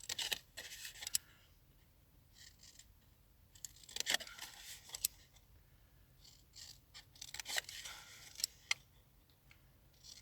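Card is cut along score lines with scissors in quick bursts of crisp snips and rustles, separated by short pauses. The cuts are close and quiet, with no talking.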